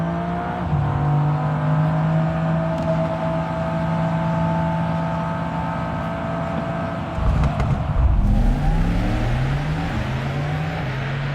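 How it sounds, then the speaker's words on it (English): An electric Mercedes-AMG car drives with a continuous synthetic engine-like hum, its pitch shifting and rising as it accelerates, with road and wind noise throughout. "the emotional sound of an AMG is part of the"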